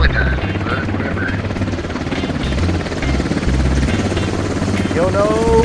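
A video-game helicopter comes in to land with a loud, continuous rotor thump and engine roar close by, as voices talk over it.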